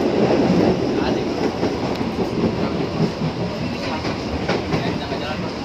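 Commuter train rolling past a level crossing at Kampung Kandang, Parung Panjang, with a steady close rumble of wheels on rails and faint clickety-clack throughout, loudest at the start.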